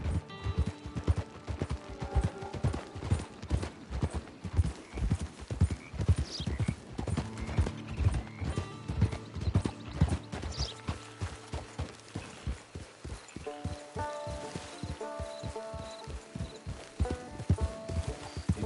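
In the Red Dead Redemption 2 game world, a horse's hooves clip-clop in a steady walking rhythm close by, with a brief whinny and game music beneath.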